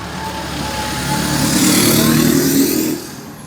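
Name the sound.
loud road traffic, cars and motorcycles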